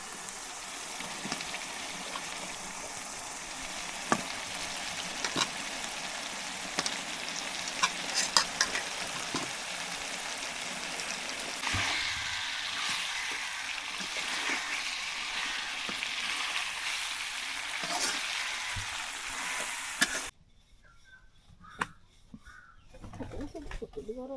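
Duck meat fries with a steady close sizzle while being stirred in a pan at an outdoor village cooking spot by a lake, scraping strokes breaking through, birds faintly audible, before the sound cuts to near quiet at the end.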